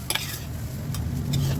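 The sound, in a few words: okra frying in a pan, being lifted out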